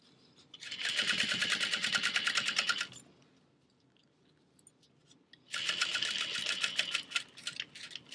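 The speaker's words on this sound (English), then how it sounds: "Then I am going to top stitch this for a little bit extra security." A sewing machine top-stitching a backpack runs in two close, loud bursts of rapid mechanical stitching, roughly two seconds each, with a quiet pause between them.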